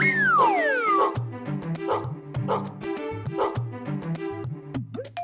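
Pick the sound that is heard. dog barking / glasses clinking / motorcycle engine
dog barking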